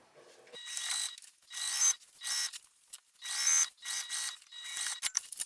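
A sewing machine basting all along the top edge of a fabric tote, running in several bursts of steady whirring stitching with short pauses between them, fairly close and with no talking.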